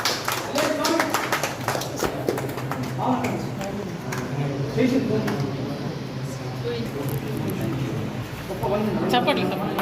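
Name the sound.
audience clapping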